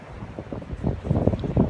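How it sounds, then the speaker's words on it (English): Strong wind buffets the microphone outdoors in a garden with a low, rumbling roar that surges in gusts and grows louder toward the end. "As you might be able to hear, it's extremely windy out here."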